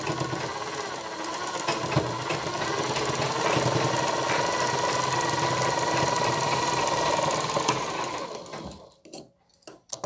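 A sewing machine runs steadily while stitching a strip for a blouse collar, a close, continuous whirring drone with a faint rhythmic knock that winds down and stops near the end, with no talking.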